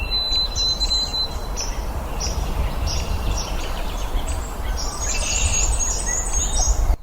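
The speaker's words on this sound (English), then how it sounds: "Old Sam Peabody, Peabody, Peabody, the white-throated sparrow" Thin, high bird songs ring out over steady low background noise in Maine woodland, a series of clear whistled phrases, fairly distant and repeated, with a denser burst of chirping near the end; a white-throated sparrow is among the singers.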